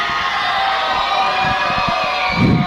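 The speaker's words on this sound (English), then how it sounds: "There's a very loud crowd here, but I want to see which side is the loudest." Loud crowd cheering and shouting fills a wrestling show venue, a dense steady roar with a burst of louder yelling near the end.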